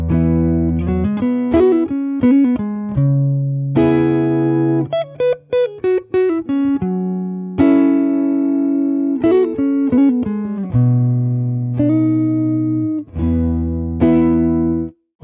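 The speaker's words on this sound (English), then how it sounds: "Now we have more of a normal type of guitar sound." Clean electric guitar tone recorded direct from an amp, playing a steady run of single notes and short phrases with distinct pitched harmonics, moderately loud and upfront with no voices.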